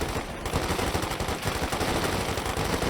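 Rapid rifle gunfire from Cavalry Riflemen in Company of Heroes 2 during a World Championship grand final match, dense crackling shots layered over continuous battle noise, loud and sustained throughout.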